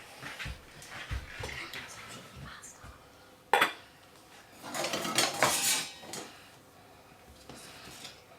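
A ham and potato casserole being cut into for serving, with clinks and scrapes of a utensil against the dish, a sharp knock partway through and a louder burst of scraping after it, close by.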